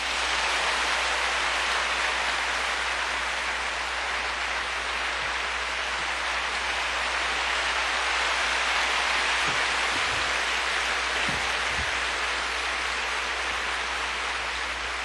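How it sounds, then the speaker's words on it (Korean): A church congregation at Yoido Full Gospel Church applauding: dense, steady applause from a large crowd that fills the whole stretch without a break. "우리 뜨겁게 감사함으로 박수로 환영하겠습니다"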